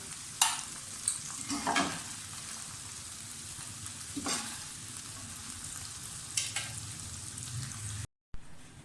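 Okra and onions frying in a pan for masala bhindi, a steady sizzle with several scraping stirs at intervals, close and moderately loud, with no talking.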